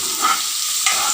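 Chopped onion and garlic sizzling steadily in a hot pan while being stirred, a continuous close frying hiss with a brief scrape of the spoon near the end.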